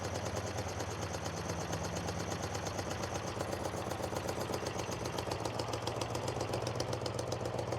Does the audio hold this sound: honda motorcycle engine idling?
yes